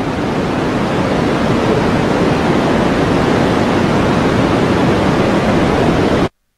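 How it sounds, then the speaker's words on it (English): Low frequency white noise played for tinnitus therapy, a loud, steady broadband hiss like rushing surf that holds unchanged for about six seconds and then cuts off abruptly into silence. "this is a low frequency white noise"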